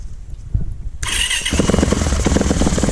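A dirt bike engine kicks over and starts, catching quickly into a loud, revving idle close by.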